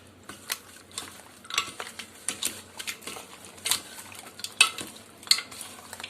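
Quail meat being mixed by hand or spoon with a marinade of garlic and ginger, a run of close, wet clicking and squelching taps in an uneven rhythm, fairly quiet and without talk.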